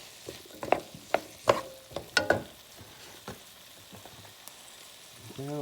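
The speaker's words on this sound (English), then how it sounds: "All right, you can smell the garlic cooking now." Garlic cooking in a pan for chicken stew, with a steady low sizzle under a string of sharp clinks and scrapes as it is stirred, close by and moderately loud.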